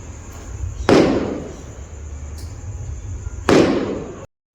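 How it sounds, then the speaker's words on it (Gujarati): Two sharp firecracker bangs at a wedding, about two and a half seconds apart, each loud and close, trailing off into a low rumble over steady background noise. "કોકના લગ્ન હતા એટલે ફટાકડા ફૂટતા હતા"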